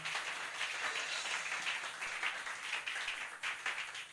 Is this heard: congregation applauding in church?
yes